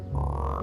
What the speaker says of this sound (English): They turned Taylor into a frog!